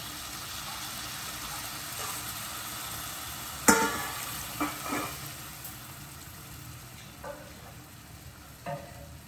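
Pea and potato curry sizzling in a pan, with a sharp burst as water is poured in, then a few fainter splashes and stirring scrapes over a steady bubbling hiss.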